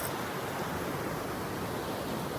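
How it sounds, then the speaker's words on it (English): Loud, steady rush of river rapids fills the whole stretch, a constant broadband roar of churning water with no breaks and no voices. "Sorry if it's really loud. There's some rapids."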